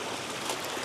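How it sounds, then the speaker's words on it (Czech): A small babbling brook in the Brdy hills gives a faint, continuous trickle and gurgle of flowing water, steady throughout, with no voices. "Krásný potůček, nádherně zpívá"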